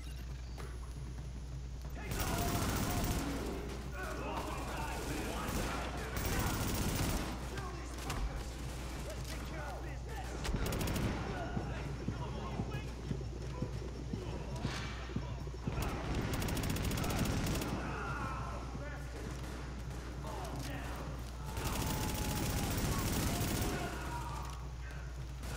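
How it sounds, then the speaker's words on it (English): Heavy bursts of automatic gunfire in The Division come from a gunner on a rooftop, arriving in several loud, sustained volleys separated by short lulls over a constant background rumble. "Party's taking heavy fire from the roof."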